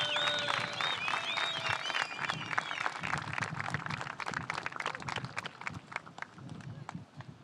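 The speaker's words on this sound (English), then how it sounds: "A round of applause," Applause and cheering from a crowd at the surf contest awards ceremony for the EDP Ericeira Pro, with dense clapping that fades over several seconds, a few whistles near the start, and voices mixed in.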